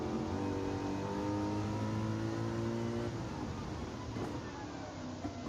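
A race car engine in Gran Turismo 7 holds a steady high drone with layered harmonics, then shifts pitch and roughens partway through as the car brakes or changes gear on a circuit.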